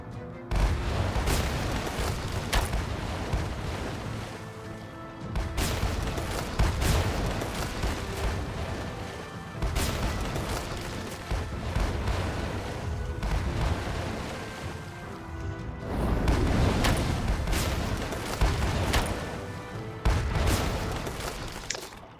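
Broadside cannon fire from sailing ships in the naval video game Sailing Era, a dense, loud barrage of booming shots in repeated waves with brief lulls between volleys.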